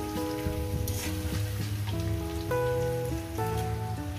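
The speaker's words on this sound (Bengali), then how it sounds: "চিনিটাকে দিয়ে আরো 2 মিনিট আমি এটাকে ভেজে নেব।" A katla fish head chorchori with sugar fries in a pan, giving a continuous crackling sizzle under steady background music.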